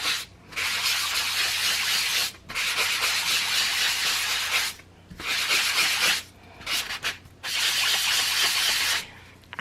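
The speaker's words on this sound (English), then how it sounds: "I'm going to take that same sanding block" Repeated long strokes of a sanding block scuffing a surface, a steady broadband rasp in bursts of a few seconds separated by short pauses.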